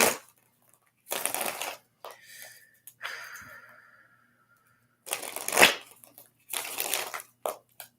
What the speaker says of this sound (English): So I'm going to make sure we get this shuffle really good.